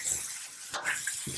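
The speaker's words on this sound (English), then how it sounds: "And I'm going to add the water." Water pours into a pot of spicy anchovy curry with half-cooked potatoes and long beans, a soft, close splashing gush that swells near the end.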